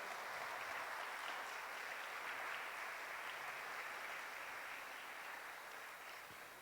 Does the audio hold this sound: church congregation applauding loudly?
yes